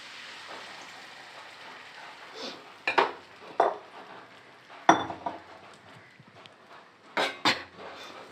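Rava batter is stirred in a pan over a low flame, giving several short scraping, clinking strokes of a utensil against the pan at irregular intervals, moderately close, with no talk.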